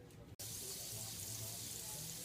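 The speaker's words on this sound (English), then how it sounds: "while that's frying up" Burgers sizzling in a pan of leftover bacon grease, a steady hissing crackle that starts after a brief cut and continues at a moderate level with no talk.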